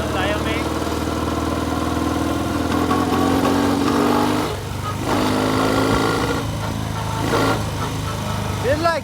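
A Norton motorcycle engine idles roughly and loudly, sputters and sags as if about to stall, then keeps chugging unevenly, with a voice talking over it.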